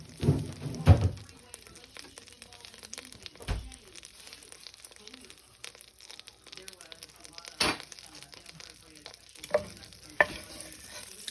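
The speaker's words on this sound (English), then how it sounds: "All right, our butter's almost melted." Butter melting in a pan gives a low, soft sizzle, with intermittent scrapes and clatters from stirring and handling the pan.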